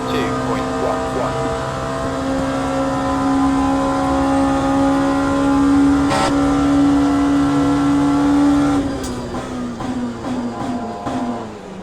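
LMP2 prototype race car engine at Monza in Le Mans Ultimate, a loud sustained high-revving drone held steady, then dropping through quick downshifts with crackles, while someone talks over it.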